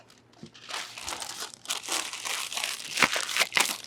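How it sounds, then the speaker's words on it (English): Continuous crinkling of wax paper during leather holster making, crisp rustles and crackles up close at a steady, moderate level. "We're going to take this wax paper."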